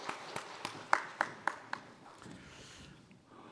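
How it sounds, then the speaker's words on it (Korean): A church congregation at a Sunday worship service applauds. The clapping is faint and scattered, and individual claps stand out as it fades into quiet. "하나님께 영광 박수 드리겠습니다"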